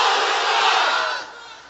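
A large crowd of unmarried men at a Bangladeshi religious sermon gathering roars a takbir chant in unison, a loud, sustained massed shout that holds and then fades away at the end.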